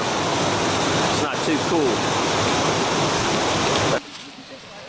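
Cheaha Falls pours into a pool with a loud, steady broadband rush of falling water that fills the scene up close, then cuts to a quieter setting near the end; a person speaks briefly over the roar.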